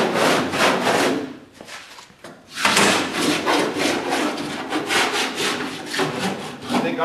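Hand sanding of Bondo body filler on a classic car under restoration: a loud, rhythmic rasping stroke repeated back and forth, close up, with one brief pause, and no talking.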